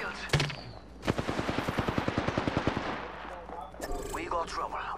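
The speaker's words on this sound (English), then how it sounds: "Getting shot at." Automatic gunfire in Apex Legends rattles out in one close, rapid burst of evenly spaced shots lasting nearly two seconds, followed by scattered game effects and a brief voice.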